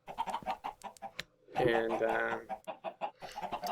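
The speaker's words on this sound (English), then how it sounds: "all that squawking going on down here, or clucking. This is all the chickens I've got." A flock of chickens clucking and squawking in a building, a loud burst of overlapping squawks mid-way with scattered clucks around it, while someone talks over them.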